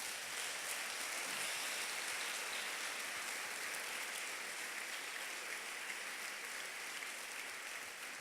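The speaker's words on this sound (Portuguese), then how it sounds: "Você pode dar um aplauso a Ele?" A church audience applauds during a Portuguese-language sermon, a steady, rain-like wash of many hands clapping that stays fairly quiet and even, easing off slightly toward the end.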